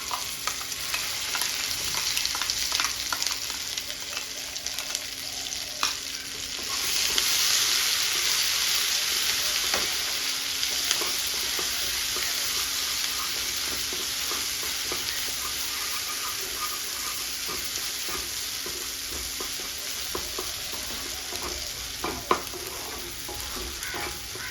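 Cashew and onion paste fries in hot oil in a pan while being stirred, a loud continuous sizzle with scraping stir strokes, close and steady throughout.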